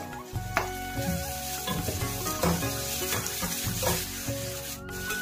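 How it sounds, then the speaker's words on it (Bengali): Onion and chili sizzling in a pan, with steady frying crackle and repeated stirring scrapes throughout, close and moderately loud with no talking. "পেঁয়াজটা বেশি ভাজবো না, এখন এর মধ্যে যে মরিচটাই করে রাখা মরিচটা দিয়ে দিব"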